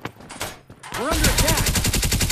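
Loud rapid automatic gunfire from an enemy weapon in a mobile shooter game, bursting in after a brief quieter stretch and hammering on continuously, with faint game sounds underneath.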